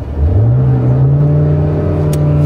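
A learner driver's car engine revs up as the throttle opens, a steady loud drone rising in pitch over the first half-second and holding high and continuous, with a brief click near the end.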